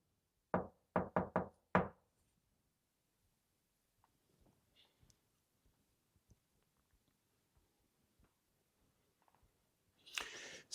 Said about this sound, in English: One time we heard a single knock.